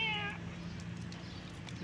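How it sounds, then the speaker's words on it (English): A cat gives one brief meow at the start, followed by a quiet, faintly noisy outdoor background. "there's a cat."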